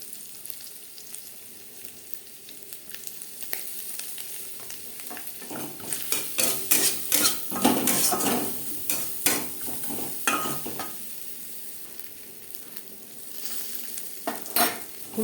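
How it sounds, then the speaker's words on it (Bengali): Grated coconut sizzles and fries in a pan for chana dal, with steady stirring and scraping that grow louder and busier in the middle and again near the end, with no voices. "নারকেল ভেজে নেব"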